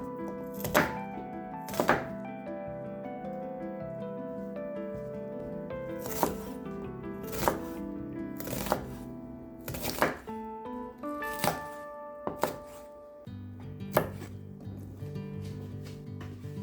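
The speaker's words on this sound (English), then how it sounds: "Chop the shallot." Knife chopping a red onion shallot on a board, with sharp irregular thunks spaced a second or two apart over soft background music.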